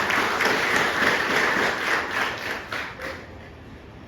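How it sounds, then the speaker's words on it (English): An audience applauds a gold-medal-winning arm wrestler at an Assam Rifles ceremony, with steady, dense clapping for about four seconds that eases slightly toward the end. "huge round of applause to you"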